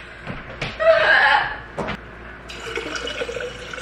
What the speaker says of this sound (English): Next up, we're gonna fill our water.